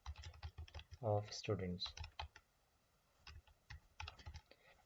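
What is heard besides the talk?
typing on a computer keyboard in a word processor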